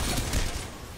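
Dense video game gunfire rattles in a rapid, crackling burst that fills the whole short moment at moderate loudness, with no talking over it.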